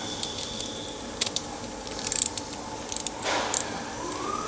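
A reversible torque wrench ratchet gives short bursts of quiet clicks, a few scattered clusters over a low background hum with no talk.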